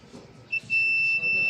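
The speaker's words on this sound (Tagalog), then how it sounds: "Pag mag-buzzer ang ating tester" A thin, steady electronic beep from a continuity tester starts partway through and holds, briefly interrupted, under a man's speech and some handling noise.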